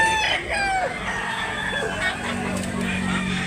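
Rooster crowing among other chickens at a rooster sale in Tabunok, Talisay, Cebu, with a crowd's murmur and distant voices around the birds.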